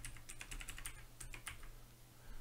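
Computer keyboard arrow keys pressed in a quick, uneven series of light plastic clicks, close and clear over a steady low hum, with a few short pauses between bursts.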